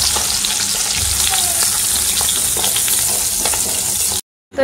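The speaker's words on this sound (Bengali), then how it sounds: "মাছ ভাজা হচ্ছে" Fish frying in a pan, a loud, continuous close sizzle and crackle holding steady for several seconds before cutting off abruptly.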